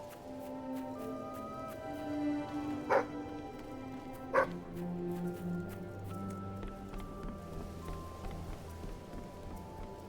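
A dog barks twice, sharp and fairly close, in a role-playing video game, over steady rain-like ambience and a droning game soundtrack.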